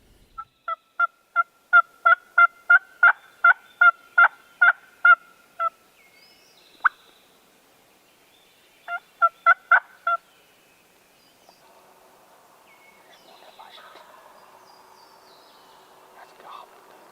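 A wild turkey gobbles in a swamp in early spring, a clear, fairly close rapid series of gobbling calls repeated twice with a pause between, then quiet woodland ambience with faint insects.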